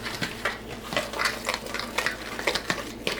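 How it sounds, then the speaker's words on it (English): Tuna burger mixture being stirred together with egg, mayonnaise and flour in a bowl, giving close, repeated wet scraping and soft clinks of a utensil against the bowl in an irregular rhythm, with no talking. "Let's mix everything together."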